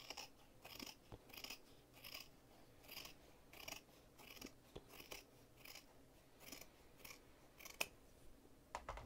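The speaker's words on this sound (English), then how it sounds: "Oops, let me grab my fabric scissors." Fabric scissors snipping through fabric for a woven Easter basket, a quiet, close series of regular crisp cuts in a steady rhythm.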